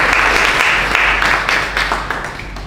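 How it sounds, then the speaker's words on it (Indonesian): Applause from an audience after students finish a school presentation, steady dense clapping throughout, fairly loud and close, with no talk over it. "mari kita berikan tepuk tangan kepada mereka"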